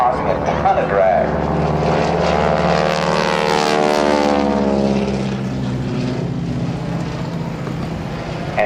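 A T-6 propeller airplane at an airshow roars loud and close through an aerobatic roll, its droning engine note sweeping downward in pitch as it passes and then fading slightly, with an announcer talking over it.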